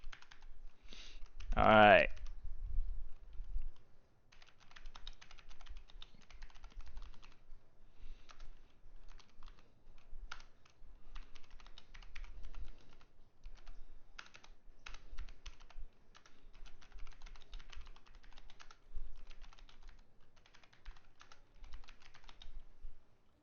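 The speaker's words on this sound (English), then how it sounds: "I'm over here just typing the left side." Steady keyboard typing runs through most of the stretch, close and fairly quiet, with a brief loud burst near the start and someone speaking a word early on.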